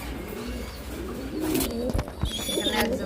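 Fancy pigeons, including a pair of silky lakka, coo softly at a farm among other scattered bird calls and faint background noise.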